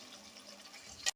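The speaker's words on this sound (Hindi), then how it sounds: "ज़रा सा पानी और मैं डालूंगी," Water is poured into frying masala for a white bean lobia curry, a short splashing sizzle that swells at the end over a steady background hiss before cutting off abruptly.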